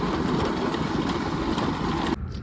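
Motorbike engine running on a sandy, rough road, a close, steady low rumble filling the whole clip before cutting off abruptly just before the end.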